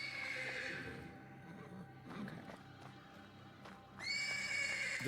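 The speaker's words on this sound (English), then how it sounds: "The persistent neighing of a horse can be heard from the stables." Horse neighing from stables in a video game, a loud drawn-out whinny near the start, then quieter shuffling, and a second bright whinny near the end.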